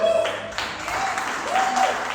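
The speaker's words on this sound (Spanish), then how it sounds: "dale un aplauso a Dios" Church congregation applauding during a Spanish-language worship service, a steady wash of clapping with faint tonal sounds above it, likely music or voices, running through the short stretch.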